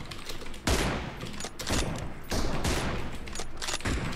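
Video game gunfire comes in loud, dense bursts of rapid shots, stopping and restarting several times over a few seconds, with no voices over it.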